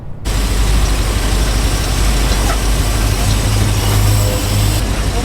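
A car engine that had broken down and was restarted now runs loud and close, a steady rough idle with a broadband roar that holds for about five seconds.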